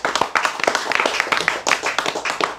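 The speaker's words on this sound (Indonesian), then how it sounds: "Tepuk tangan." An audience at an Islamic religious lecture bursts into hand clapping, brisk sharp claps from a crowd coming in quick irregular bursts, close and fairly loud with no talking.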